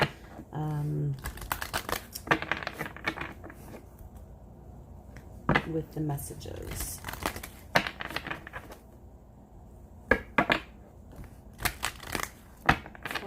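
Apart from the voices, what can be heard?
shuffling tarot cards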